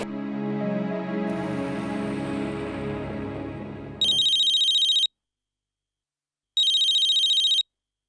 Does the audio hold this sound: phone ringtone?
yes